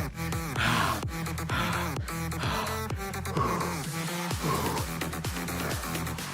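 Heavy, rhythmic breathing during a live indoor spin-cycling endurance ride, sharp inhales and exhales repeating steadily over pulsing workout music.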